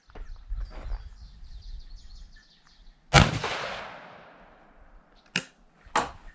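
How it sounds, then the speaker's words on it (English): Shotgun firing buckshot rounds at a target outdoors, three sharp, loud blasts with echoing decay, the first long and reverberant, the last two in quick succession. "I'm gonna do both sets of buckshot. So 4 rounds into the target before we look at it"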